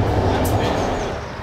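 Train at Csíkszereda railway station, part of the Székely Gyors express, with a dense, loud rumble and rolling rail noise filling the whole moment.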